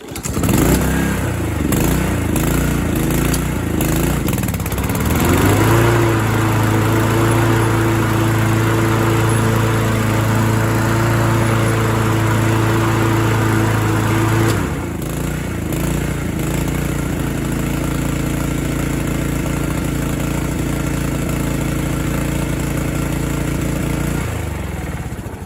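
A Craftsman lawn mower with a Honda engine runs loud and steady after a choked start, its pitch dropping as it settles into a rougher, lower drone that carries on to the end.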